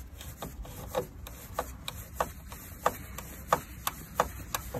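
A screw bolt is tightened on the brake light of a Daihatsu Terios Kid, with a steady train of small, crisp clicks and light scraping repeating about every third of a second close by.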